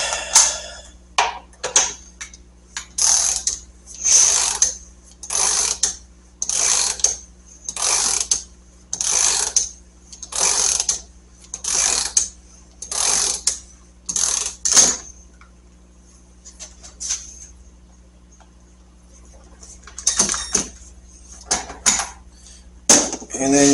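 Ratchet clicking in repeated bursts while tightening parts on a Harley-Davidson Road King front fork during an oil change, about a dozen rhythmic strokes with short pauses between them, close and clear, with a few quieter clicks near the end.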